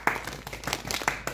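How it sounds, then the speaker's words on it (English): Hands clap a few times in quick, uneven bursts at close range, with brief gaps between them and no talking over them. "Clap for me."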